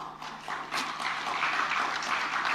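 A crowd applauding at a speech or public event, a steady wash of many hands clapping that swells in after a moment and continues moderately loud.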